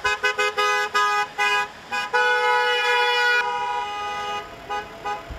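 Taxi car horns honk repeatedly in protest at a work stoppage by taxi drivers, a series of short toots followed by a long sustained blast, loud and near, with no talk.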